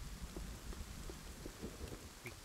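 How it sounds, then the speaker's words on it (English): Steady rain in The Forest survival video game, a soft, even hiss of falling drops with faint scattered patters, quiet and continuous without any voices. "What is up with this rain?"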